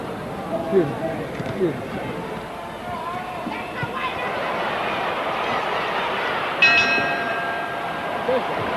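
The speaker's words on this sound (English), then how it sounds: "And the bell sounds, ending round 11" A boxing bell rings near the end of round eleven in a heavyweight bout, a few short metallic clangs over loud arena crowd noise while commentators talk.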